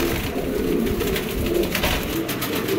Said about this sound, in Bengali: দেখেন কবুতরগুলা একেবারে চমৎকার।